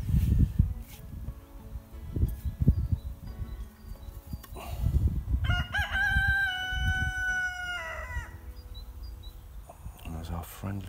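A rooster crows once, a loud drawn-out call rising over low rumbling background noise and scattered bird sounds.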